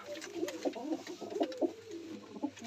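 Domestic pigeons at a loft coo steadily in soft, rolling, repeated phrases, close by and continuous with a light hum of background activity.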